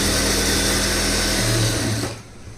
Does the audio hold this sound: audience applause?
no